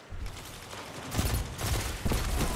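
Syncopation-53 pulse rifle in Destiny 2 fires in quick bursts, sharp repeated cracks clustered close together in several volleys over a couple of seconds, loud and near.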